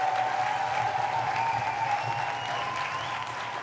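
A studio audience on a French-language TV talk show applauds steadily, a dense even clapping that holds for a few seconds and eases slightly toward the end.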